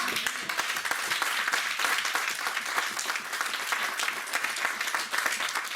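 A church congregation bursts into sustained, dense applause and clapping, loud and close, holding steady without letup.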